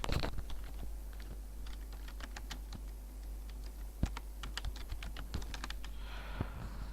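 Fast, irregular key taps on a computer keyboard while writing a resume in Microsoft Word, close and fairly quiet, with no talking.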